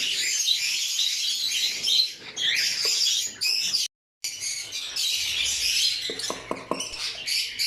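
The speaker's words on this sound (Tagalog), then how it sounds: "hindi maganda no, nandito tayo nagre-record kasi hindi nyo masyadong maririnig yung sinasabi ko" Dense, constant chirping and squawking from many pet birds close by, including Lutino and Albino breeding pairs, high and busy throughout, with a brief silent gap midway.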